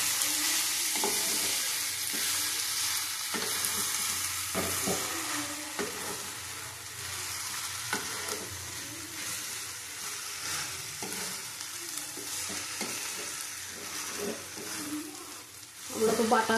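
Taro and shrimp being cooked and stirred in a pan, a constant close sizzle of frying with scattered scraping and clinking of a spatula against the pan throughout.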